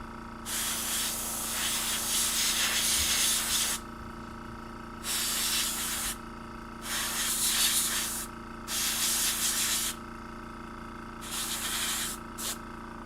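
Aerosol spray paint hisses in several long bursts of a few seconds each, separated by short pauses, as miniature figures are primed; steady, close and fairly loud.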